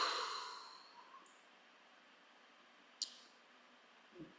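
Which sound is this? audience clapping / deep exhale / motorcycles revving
deep exhale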